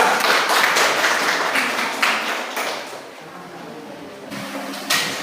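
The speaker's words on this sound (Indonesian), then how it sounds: "Tepuk tangan untuk kelompok 3" Applause from a classroom audience for student group 3, a dense patter of clapping that is strongest at the start and thins out toward the end, with faint room noise.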